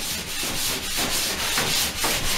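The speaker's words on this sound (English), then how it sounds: "this sanding this compound is gonna be, this dust gets all over the place" Joint compound is sanded by hand on a patched plaster wall behind a bathroom sink, loud close scraping strokes in a steady back-and-forth rhythm of about four passes.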